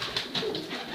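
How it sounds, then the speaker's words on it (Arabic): Young pigeon chicks give soft, quick peeping calls, three or four faint chirps in a row, close and alone. "هذه صغار الحمام"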